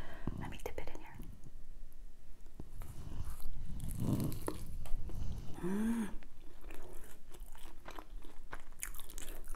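Crunchy bites into a crispy samosa dipped in mint and tamarind sauces, close chewing and crunching mixed with whispery voices and mouth noises throughout.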